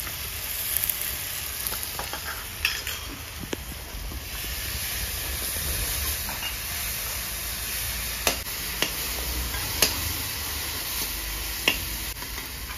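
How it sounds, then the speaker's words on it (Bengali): Ginger-garlic paste sizzling in a pan for a village-style fish curry, a continuous loud frying hiss with occasional sharp clicks and scrapes from stirring. "আদা রসুনের পেস্ট দিয়ে দিচ্ছি।"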